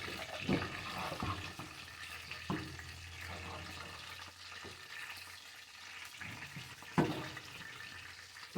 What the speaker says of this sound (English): So now you do not drain your beans at all. You just pour them in the pot.